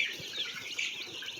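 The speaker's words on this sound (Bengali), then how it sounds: "টাইগার জাতের মুরগি" Tiger breed chickens clucking softly at some distance, a faint brief burst of fowl calls over low background noise.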